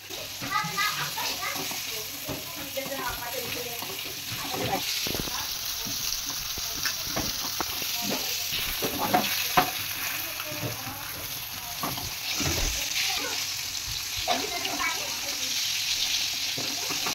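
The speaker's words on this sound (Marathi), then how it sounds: "आता हे मासे चांगले तळून घेतले तेलामध्ये, काढून घेतले" Fish sizzles and spatters in hot oil in a home kitchen, a continuous crackling fry heard throughout with some stirring, while children's voices and talk carry on in the background.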